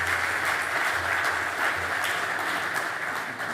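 A conference audience applauding a speaker, a dense, steady wash of many hands clapping at once that holds evenly from start to finish in a large hall.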